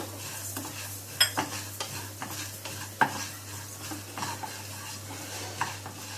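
Chana dal and coriander seeds roasting in a pan for sambar rice, with a steady dry scrape of stirring and occasional sharp clinks of a spoon against the metal, close and fairly quiet.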